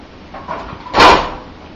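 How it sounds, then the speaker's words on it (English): A short metallic clunk of a Quadrafire pellet stove's door being shut, preceded by a faint rattle of the latch. "make sure that that door is closed"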